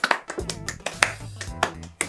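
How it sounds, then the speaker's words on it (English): Children give a small round of applause, a handful of sharp, close claps in an uneven rhythm, sounding thin and sparse like a few small hands rather than a large crowd. "give yourself a big round of applause"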